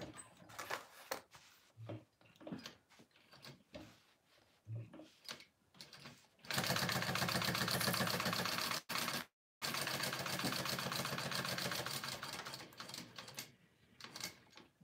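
A sewing machine stitches a quarter-inch seam on a wallet, starting with short bursts of rapid stitching, then running loud and steady for several seconds, breaking off briefly and resuming before slowing to a stop.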